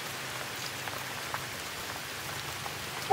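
Steady rain patters on a surface throughout, a constant close hiss with scattered louder drops and no talking.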